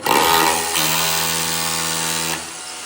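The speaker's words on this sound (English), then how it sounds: "You really know how to use that hammer drill." A 240-volt hammer drill runs at a house build, a loud, close, steady whine for about two seconds before cutting off, with no talk over it.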